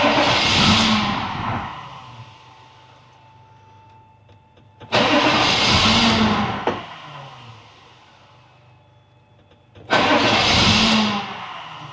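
A 1983 GMC Sierra with a 6.2L diesel engine and a weak fuel pump cranks loudly three times, each long grinding starter burst fading off between attempts without catching.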